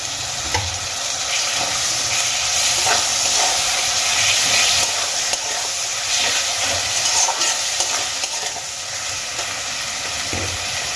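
Chopped tomato goes into a pan of frying onions and peas for Bengali-style aloo kachuri, and a loud, even sizzle with a constant hiss runs throughout, broken by a few small scrapes and pops.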